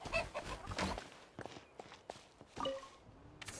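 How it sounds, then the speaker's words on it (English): Birds cluck in the video game Genshin Impact, chicken-like calls scattered among light footstep taps, with short bursts in the first second and again near the end. "Oh, it's more birds."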